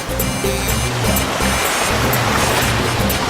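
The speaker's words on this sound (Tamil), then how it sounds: "கடல் பொங்கி வரும் அப்புறம் சுனாமி தான்" Loud, continuous sea waves surge and wash in a dense roar of rushing water, with a low rumbling undertone and no voices.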